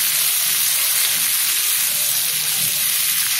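Fried paneer, onion and capsicum sizzle steadily in a hot pan, a continuous close hiss with faint scraping from stirring and no talking.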